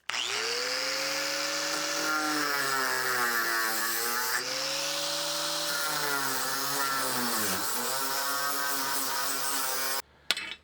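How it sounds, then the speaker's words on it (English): A power tool cuts metal bars off a toilet tank, its loud buzzing whine rising and dipping in pitch as the blade bites, running continuously for about ten seconds before stopping abruptly, with a brief clatter at the end. "I'm going to cut some of these bars off and make a bit of space"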